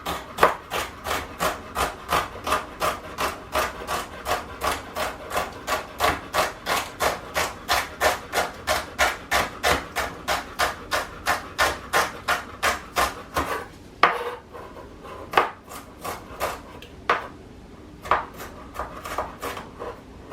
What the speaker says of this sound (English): So I'm going to take this celery leaf while that's right here getting up, and we're just going to chop it.